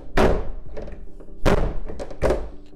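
The rear hatch of an EG Honda Civic being pushed shut, three heavy, close thunks with rattly follow-through, spaced about a second apart.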